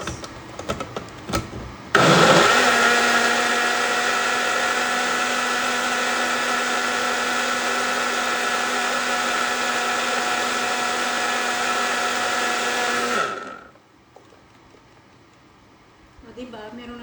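A blender runs steadily for about eleven seconds while blending a smoothie with ice and milk, a loud, even motor whine that starts abruptly and winds down near the end, with brief clatter before it begins.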